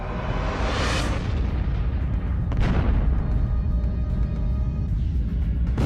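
A supernova explosion rendered as a cinematic sound effect: a deep sustained roar with a sweeping rise into a blast, then a second sharp burst, rumbling on loudly throughout.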